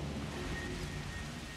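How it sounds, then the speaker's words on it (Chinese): Rain and thunder in the video game Jurassic World Evolution: a dense hiss of rainfall with a deep, rolling rumble of thunder, steady and fairly quiet across the short stretch. "哇，下雨。"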